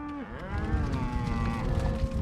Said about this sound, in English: I'm moving cattle in Montana